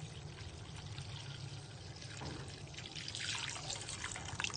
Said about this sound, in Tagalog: Nalagyan niya ng tubig.